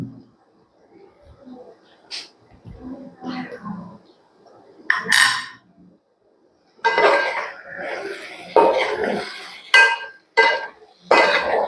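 A metal utensil clinking and scraping against a pan while soya chunk fry is stirred, bright sharp clinks in bursts, close, alternating with a person talking.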